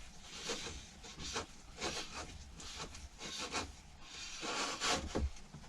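Predator 212 engine short block being turned over slowly by hand: soft, close rubbing and scraping swishes in an uneven rhythm, quiet, with no talk.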